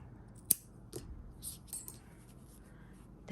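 Scissors snip crochet yarn on a small keychain piece, giving a quiet sharp click followed by a few softer faint snips in an otherwise hushed setting.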